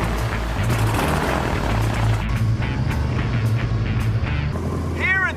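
Inside the cabin of a propeller airplane in flight, a loud, steady engine drone with a low rhythmic hum and brief higher tones near the end.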